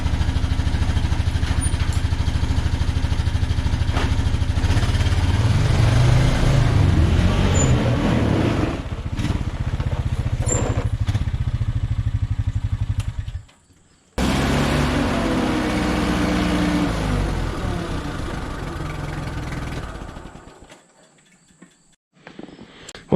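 Honda ATV engine running on a ride out, a continuous loud rumbling drone with road noise over about twenty seconds, cutting out briefly midway before resuming, then fading down near the end.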